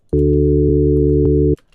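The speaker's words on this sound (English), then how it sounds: "We're going to keep it on the sine wave, which sounds pretty loud" A loud, sustained sine-wave tone from a synthesizer for a future bass patch, rising abruptly and holding steady for about a second and a half before cutting off, with no voices.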